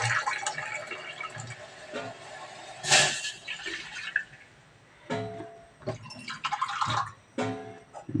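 Water poured into a pot of milk while making coffee in a home kitchen, heard as short broadband splashing bursts, the strongest around the third second, amid clinks and background noise.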